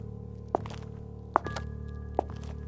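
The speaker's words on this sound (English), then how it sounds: "Then you heard some footsteps." Three heavy footsteps thud slowly and evenly, spaced nearly a second apart, each landing as a distinct dull knock over a steady low hum, with no voices.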